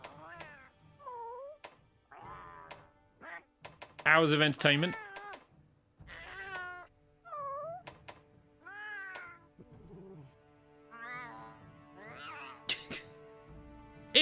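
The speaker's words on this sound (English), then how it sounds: "We are now picking cat voices." Palico cat companions from Monster Hunter Rise meow in a series of short, close, high-pitched calls with brief pauses between them, while a person talks over parts of the sequence.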